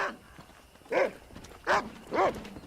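Three separate sharp dog barks in the Xbox 360 game Red Dead Redemption, spaced about a second apart over a quiet background, fairly close and clear.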